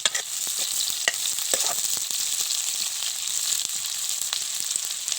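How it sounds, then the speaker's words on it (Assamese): Onions frying in a pan for a local chicken curry give a steady, bright sizzle, broken by the soft clicks and scrapes of stirring; nobody talks. "মই এতিয়া পিঁয়াজ দিছোঁ। পিঁয়াজখিনি অলপ ব্ৰাউন কালাৰ হ'বলৈ দিম।"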